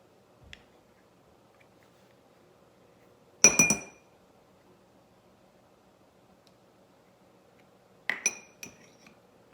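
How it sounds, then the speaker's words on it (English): A spoon dropped into a glass jar in a kitchen gives a bright clink, followed seconds later by another cluster of glassy clinks, with near silence between. "I'm going to take my spoon and I'm going to plop it in my jar."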